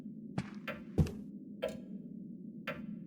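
A clock ticks inside the dark adventure game Darkness Within, sounding as a few sharp, evenly spaced clicks over a low steady hum, quiet and close, with no one speaking.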